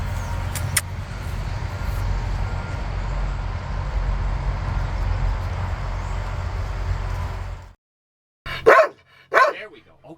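A few loud, close dog barks burst out after a long stretch of steady engine rumble that suddenly cuts off.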